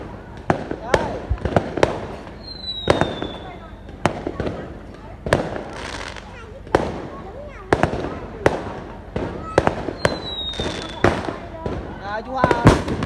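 New Year fireworks over Cao Sơn for the 2020 Year of the Rat celebration, a rapid series of loud sharp bangs and crackles with occasional whistling rockets rising, while people talk and exclaim nearby.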